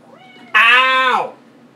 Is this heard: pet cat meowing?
yes